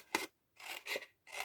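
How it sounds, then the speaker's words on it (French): Scissors snip through paper while a scrapbook mini album is being made: three or four close, crisp rasping cuts with short pauses between them, heard on their own. "Il ne nous reste plus qu'à couper."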